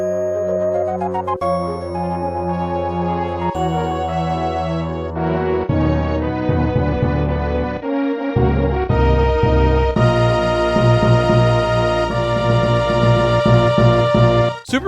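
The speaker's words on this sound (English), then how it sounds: "the ending theme is a great remix of the theme of Super Metroid" The Super Metroid ending theme, a remix with light chimes, plays as bright melodic game music with sustained tones and shifting chords throughout, no talk.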